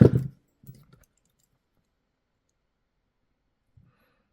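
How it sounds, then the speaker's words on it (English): Wire snips cut jewelry wire during wire wrapping: a sharp, close click opens, then a couple of fainter small clicks follow, with quiet stretches between them. "I'm going to snip."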